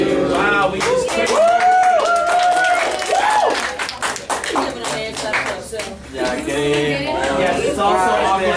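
Classroom group clapping, a burst of close handclaps with chatter and singing voices mixed in, then more scattered claps.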